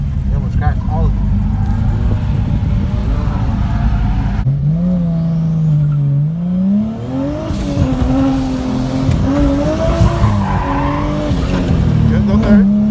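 A Mazda RX-8 drifts with its engine revving and tires squealing in long sweeping wails that rise and fall, loud and close, while people talk over it.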